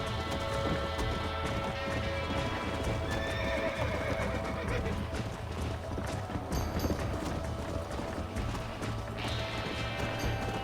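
Horse galloping in Red Dead Redemption, steady clip-clop of hooves with repeated neighs and whinnies over a constant game soundscape, loud and continuous throughout.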